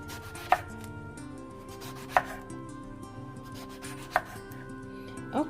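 A knife cuts through eggplant on a board as slices are prepared for eggplant parmesan. Four crisp, separate chops land about two seconds apart over a steady low hum, with no talk.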